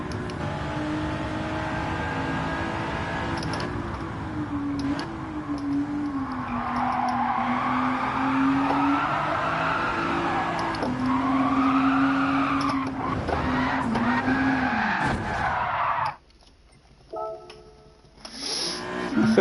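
A race car in Gran Turismo 7 revving hard, its engine note rising and falling through gear changes while the tires skid and squeal, loud and continuous before cutting out abruptly near the end.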